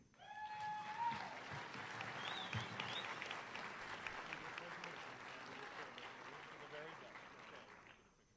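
An audience at a December 2009 Embry-Riddle Prescott graduation ceremony breaks into sustained, fairly distant applause that swells and holds steady before fading out, with a voice speaking briefly at the start.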